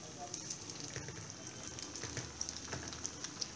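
Dahi kebab snack pieces sizzle in a pan with steady crackling and scattered pops, a soft continuous frying hiss at moderate distance with no voices.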